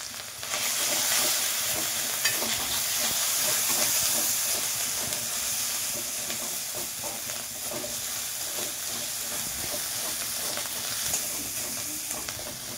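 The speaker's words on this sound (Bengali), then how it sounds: "মশলাগুলো ভালো করে নাড়াচাড়া করে ভেজে নিতে হবে।" Ginger and garlic paste frying with spices for a raw banana kofta curry, giving a continuous bright sizzling hiss broken by repeated scraping strokes as the paste is stirred around the pan.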